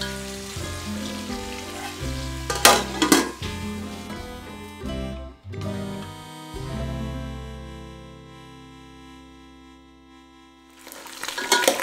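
Pork frying in its own rendered fat with no added oil for a Northeast Indian pork curry with bamboo shoots, a steady close sizzle with crackles and a few louder clatters of stirring.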